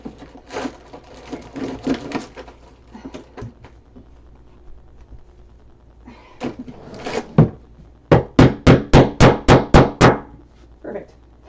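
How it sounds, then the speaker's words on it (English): A hammer taps parts into an ironing board, starting with scattered knocks and rattles of handling, then a loud, close run of about eight evenly spaced hammer blows. "That's okay, I have a hammer."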